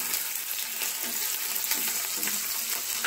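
Chilies and curry leaves frying in hot oil for kanda pohe give a steady, close, crackling sizzle with busy popping and no break throughout.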